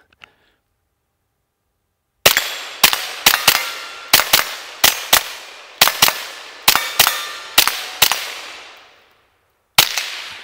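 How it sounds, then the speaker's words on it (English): A Ruger LC Carbine rifle chambered in 5.7x28 fires a series of sharp, loud shots outdoors, each with a short ringing decay. The shots come in quick bursts of two or three with short pauses, after a quiet start. "So let's do some more shooting here."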